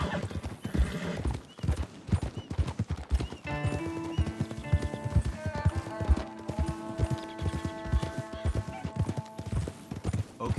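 Horses trot in Red Dead Redemption 2, with rhythmic hoof clip-clops throughout and a whinny, while a steady musical score with sustained tones plays beneath.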